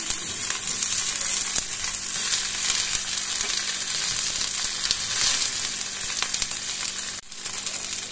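Tomato added to onions frying in hot oil for a hotel-style veg kurma masala: a steady, loud, continuous sizzle with faint stirring, no talk, and a brief dip near the end.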